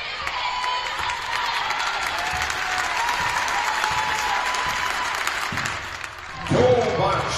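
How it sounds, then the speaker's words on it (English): A crowd in a school gym breaks into loud, sustained applause and cheering during a game, a dense roar that holds steady for several seconds before a brief dip and a swell of louder shouts near the end. "It's what happened next that led everyone in the gym to cheer."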